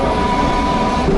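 A railbus with a worn two-gear gearbox and few wheels runs on the rails, giving a loud, steady rumbling drone with heavy vibration and a faint whine, alone without speech.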